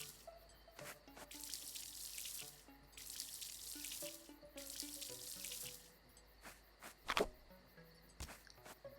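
Dry fruit plants being watered in the video game Verdant Skies: soft splashing pours in several short bursts with light drips and tinkly game sounds, quiet and without talk.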